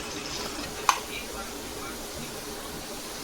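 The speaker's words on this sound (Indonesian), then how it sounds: "Ini kita mau goreng sosisnya dulu." Sausages frying in a pan in a rented room's kitchen, a steady soft sizzle throughout with one sharp clink of a utensil against the pan near the start.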